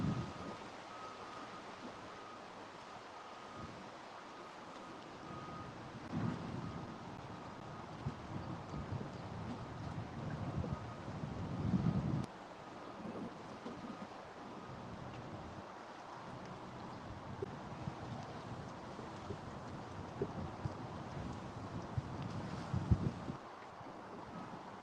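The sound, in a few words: wind blowing on the James River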